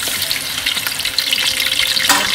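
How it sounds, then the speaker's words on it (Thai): Sour fermented pork sausage (naem) fries in hot oil with a dense, steady crackling sizzle that stays loud and close throughout, with a brief stir near the end and no talk. "น้ำมันก็ร้อนแล้วทอดแหนมกันเลยค่ะ"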